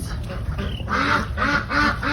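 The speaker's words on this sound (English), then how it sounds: "Here comes the flying duck." Ducks quack in short repeated calls close by outdoors on a muddy morning, with faint background noise.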